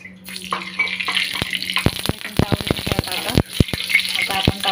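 Oil goes into a pan to heat for frying, with crackling pops and sharp spits bursting in irregular clusters over a constant background hiss, loud and close.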